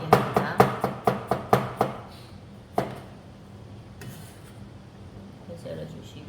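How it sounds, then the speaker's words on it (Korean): A knife slices garlic into flat pieces on a cutting board: a quick run of about eight crisp, evenly spaced chops, then a single chop and a few softer, scattered taps and scrapes. "마늘은 그냥 납작하게 이렇게 써는 거를 편썰다라고 얘기합니다."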